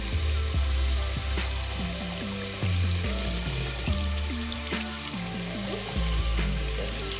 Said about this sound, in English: I'm going to wash this off in some lukewarm water.